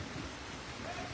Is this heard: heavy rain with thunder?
yes